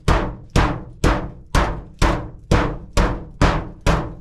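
A repaired hammer pounds a wooden unbreakable box with a steel sheet behind it, nine heavy, evenly spaced thuds about half a second apart, loud and close with no talking.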